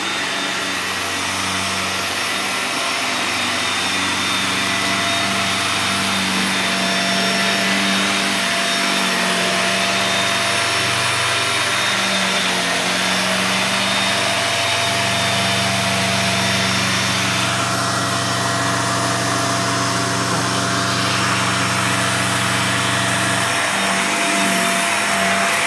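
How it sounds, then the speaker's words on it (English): Vacuum cleaner running steadily and loud throughout, a constant whining roar with a low hum and little change over the whole stretch. "I find vacuuming to be very therapeutic for me."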